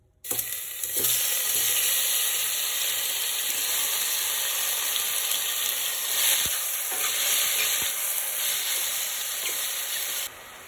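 Chopped mushrooms, about ten ounces, sauté in a soup pot, giving a steady, loud, close sizzle and hiss that runs unbroken for the full stretch with no voices.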